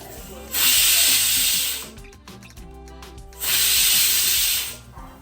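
A pressure cooker whistle lets out two loud hissing bursts of steam, each lasting over a second, with a brief gap and light clatter between them.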